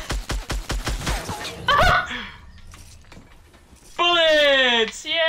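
Gunfire in Fortnite, a rapid string of close, punchy shots at the start, followed by other game effects and a rising tonal chime, with a voice talking over parts of it.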